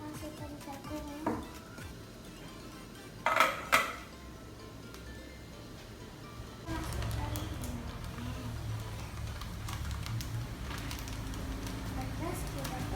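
Corn is put into a steamer pot filled with water, giving a few sharp metallic clunks, followed by a steady low hiss and rumble from the pot, with talk over the top.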